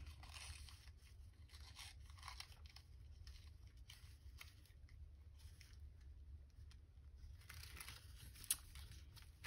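Scissors snip through paper while a small Christmas journal is crafted, giving soft, faint crisp cuts over a low steady hum, with a couple of sharper snips near the end.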